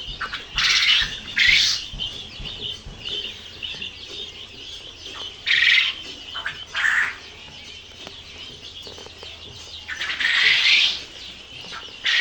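Poultry birds on a small farm squawk and cluck in repeated loud bursts, with some wing flapping between calls, over a steady background of flock chatter.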